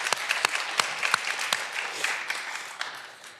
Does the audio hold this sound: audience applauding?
yes